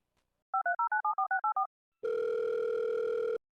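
Touch-tone keypad beeps, about eight quick dialing tones in a rapid even rhythm, then a pause and a loud steady telephone dial tone holding for over a second before cutting off, clean and close with no talking.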